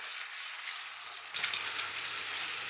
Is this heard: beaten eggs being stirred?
yes